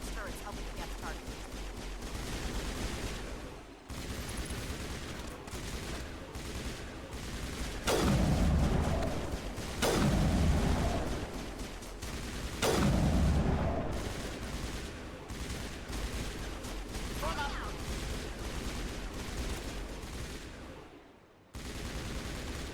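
Long-range turrets trade sustained gunfire in a coordinated crossfire in the Mass Effect Legendary Edition game, a dense ongoing barrage with heavier bursts of louder impacts, and a voice speaks over the din.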